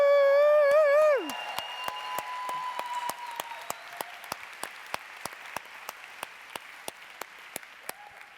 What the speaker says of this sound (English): Big cheer for the final group of delegate speakers.